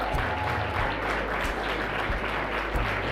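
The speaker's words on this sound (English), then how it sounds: "just stand and give him a round of applause" An audience stands to give a warm round of applause at a city key ceremony and birthday tribute for Rev. Jesse Jackson, steady clapping from a large crowd filling the room and sustained at an even level.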